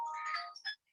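A phone ringing, a brief electronic ringtone melody of a few chiming notes, faint and alone.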